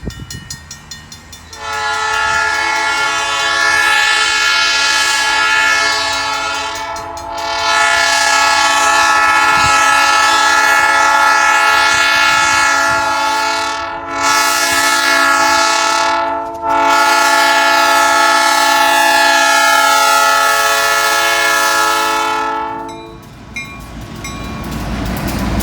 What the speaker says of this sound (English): Cool, you hear that? Horn salute there.